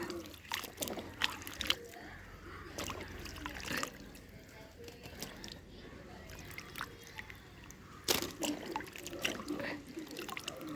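Water splashes and sloshes intermittently as fresh turmeric roots are rubbed and rinsed by hand to remove soil, with soft drips and a few louder splashes.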